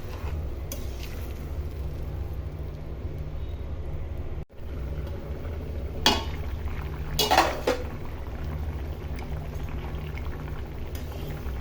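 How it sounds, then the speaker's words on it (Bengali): Fish and papaya curry simmers with a steady bubbling hiss while broth is poured in, bringing a short splashing rush of liquid and a couple of light pot clinks, close by and with no talking. "এখন আমি তরকারিতে ঝোল দিয়ে দিব।"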